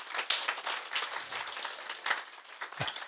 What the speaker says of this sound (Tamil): அவருக்கு ஒரு கைதட்டு கொடுத்துருங்க.